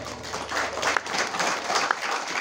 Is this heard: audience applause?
yes